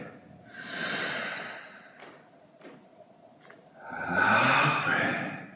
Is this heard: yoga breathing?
yes